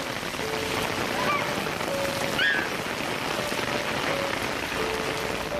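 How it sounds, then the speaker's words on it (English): Heavy torrential rain pours steadily during a severe storm, a dense continuous hiss of downpour with a few faint tonal chirps over it and no speech. "the rain is getting stronger"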